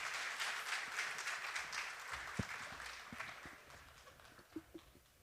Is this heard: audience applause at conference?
yes